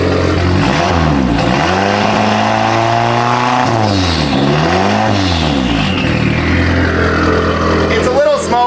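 Honda GSR engine swapped into a CR-V revs hard twice, pitch sweeping up and falling back each time, then holds a steady idle, loud and close, with voices talking over it.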